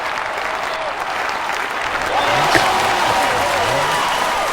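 Applause from a crowd welcoming a special guest on a talk show, steady clapping that swells slightly louder midway, with a faint voice or two underneath.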